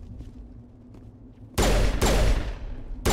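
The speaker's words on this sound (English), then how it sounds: "Shoot these guys." Gunfire in the video game Mass Effect: loud, close bursts of rapid shots break in suddenly after a quiet stretch, with a brief gap between volleys.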